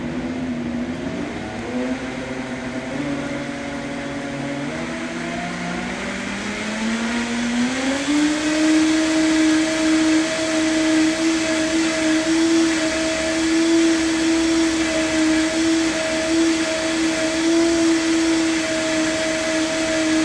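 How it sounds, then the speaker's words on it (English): A blender motor whirs up while blending soup, its whine rising in pitch over several seconds before settling into a loud, steady hum that continues alone. "And then we're going to start this blender."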